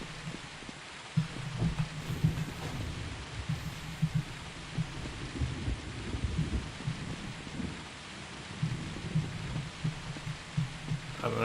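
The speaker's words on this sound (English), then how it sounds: "Hopefully rain coming from over there by the sound of it." Steady rain hisses throughout a video game scene while deep, rolling rumbles of thunder swell and fade in the low range, with no talking over it.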